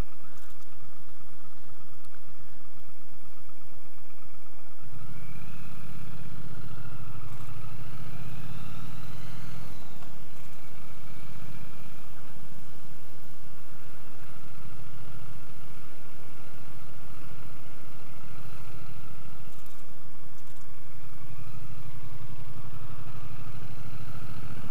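A Triumph T100 motorcycle engine idling and chugging in second gear under 2,000 RPM, low, steady, loud and close, with a brief rise around the middle before settling back into a lumpy, tractor-like rumble.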